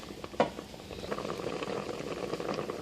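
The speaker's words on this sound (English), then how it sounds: "So we'll let it boil." Pot of laswa vegetable soup boiling on the stove, a soft, steady bubbling close by with one brief louder pop near the start.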